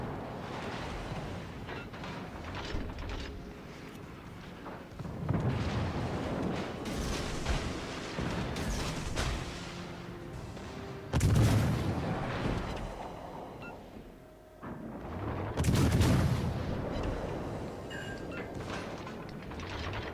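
Naval gunfire and torpedo hits aboard the German battleship Weimar in World of Warships Legends: repeated heavy booming blasts and rumbling impacts over a continuous engine and sea drone, with no voices.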